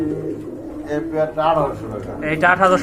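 Pigeons coo in low, throaty bursts close by at a pigeon sale, mixed with people talking nearby.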